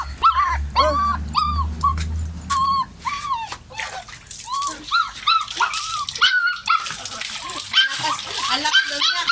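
Dog named Bogs whimpers and yelps loudly and repeatedly during his first bath, with water splashing around him and a person talking over the cries.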